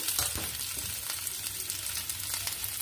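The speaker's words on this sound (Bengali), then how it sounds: "এখন এই তেলের মধ্যেই আমি পেঁয়াজ রসুনগুলোকে দিয়ে দিলাম," Steady hiss of onion and garlic frying in hot oil, with occasional crackles and spatters, fairly close.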